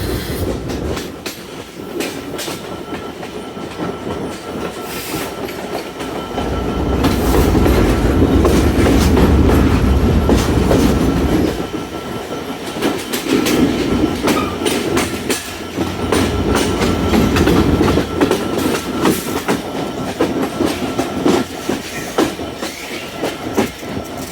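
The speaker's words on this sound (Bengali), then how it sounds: "অল্প সময়ে আমাদের ট্রেনটি যশোর জংশন রেল স্টেশনের 1 নং প্ল্যাটফর্মে প্রবেশ করবে" Intercity Ruposhi Bangla train rolling into Jessore Junction platform, heard from onboard: loud rumbling wheels and rhythmic clickety-clack over rail joints, with a heavy surge mid-way and faint squeals as it slows.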